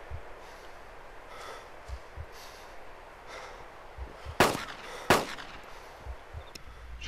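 Two sharp gunshots ring out in DayZ, a few seconds into quiet ambient background, spaced under a second apart and moderately loud.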